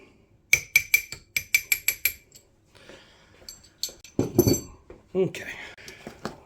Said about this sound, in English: Knock the pin out.